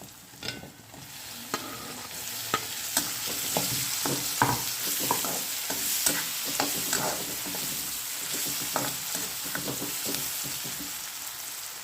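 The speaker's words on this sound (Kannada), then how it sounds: "ಸೊ ಈರುಳ್ಳಿ ಮೆತ್ತಗಾಗಿದೆ, ಹಾಗೆ ಮೆಣಸಿನಕಾಯಿ ಕೂಡ ಚೆನ್ನಾಗಿ ಫ್ರೈ ಆಗಿದೆ." Onion, green chili and tomato fry and sizzle in a pan, a steady crackling bed punctuated by repeated scraping stirs of the spatula, close and moderately loud, with no voices.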